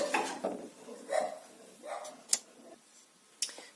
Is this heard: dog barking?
yes